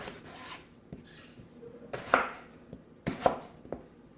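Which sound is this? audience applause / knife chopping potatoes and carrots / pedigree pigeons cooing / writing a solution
knife chopping potatoes and carrots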